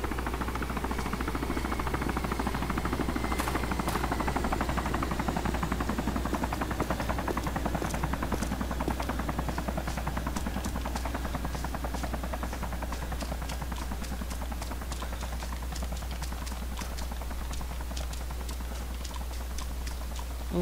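A helicopter drones steadily through the Arma 2 DayZ Mod game at night, a continuous low thrumming rotor roar throughout, with rapid clicking taps layered over it.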